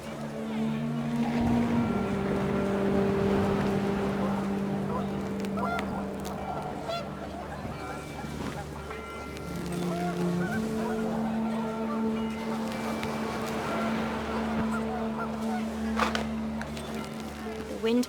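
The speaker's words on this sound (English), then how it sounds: "The wind picked up and panicked geese appeared and quickly went." Geese honking in the video game What Remains of Edith Finch, with repeated honks over steady wind and a motor-like drone, fairly loud and continuous throughout.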